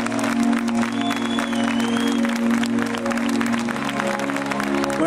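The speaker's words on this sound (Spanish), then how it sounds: "un fuerte aplauso para él" Audience applause at a Día de Asturias celebration, a steady, dense patter of clapping over a sustained low musical drone and hum, continuous for the whole stretch.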